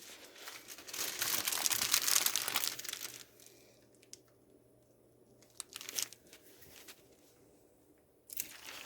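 Plastic double bag of churro dough crinkles and crunches as it is squeezed by the stove, a dense burst of rustling for the first few seconds, then quieter scattered crinkles with a faint low hum beneath.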